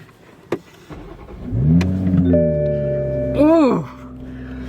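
Toyota Supra engine cranks and fires, settling into a steady idle before a sharp rev that climbs and falls back, heard up close with some background talk beforehand.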